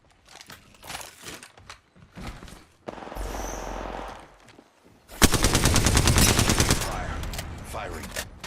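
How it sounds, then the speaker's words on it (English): Video game gunfire: scattered single shots at first, then a sustained rapid automatic burst roaring loud and close, with a voice speaking in between. "They spotted me. I'm taking shots. Firing."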